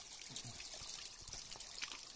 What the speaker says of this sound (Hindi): तो ये चश्मा अंदर से आया हुआ है, चश्मे का पानी है ये।